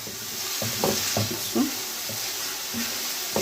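Onion sautés in a little oil in a pan, a close, continuous sizzle broken by a few short stirring knocks and scrapes.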